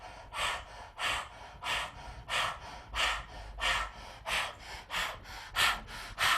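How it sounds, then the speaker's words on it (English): Breath of fire through the mouth: rapid, rhythmic panting breaths, about two per second, strong and close, continuing steadily without talk. "we do breath of fire through the mouth"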